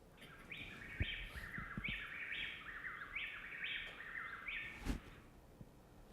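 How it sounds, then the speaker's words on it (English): Common wrens singing in Ecuador, a repeated series of bright, rapid warbled phrases in quick alternating bursts, fairly faint over a soft background hiss with a few low thumps. "These birds are the common wren in Ecuador, and this is their song."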